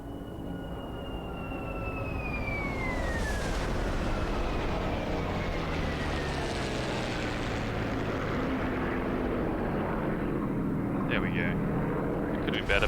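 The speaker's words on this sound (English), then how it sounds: "Let's see if we can do a bit of a flyby here." A Bf 109 propeller fighter in the DCS flight simulator roars past in a flyby, its engine tone sweeping downward in pitch as it passes, loud and sustained, with a voice briefly talking.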